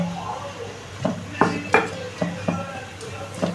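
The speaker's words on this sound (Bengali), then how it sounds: "এইবারে এটাকে আমি সবকটা জিনিসকে ভালো করে আমি মিক্সড করে নেব" Vegetable pakora batter with rice flour is mixed in a bowl. A spoon clinks and knocks against the bowl in a loose series of sharp, close taps over a soft background.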